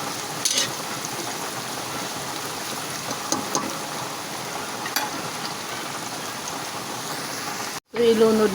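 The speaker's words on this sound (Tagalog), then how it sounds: "Maulan ngayon ang umaga natin mga kaibigan." Steady rain falls on a rainy morning as a constant, even hiss with faint patters, cutting out briefly near the end.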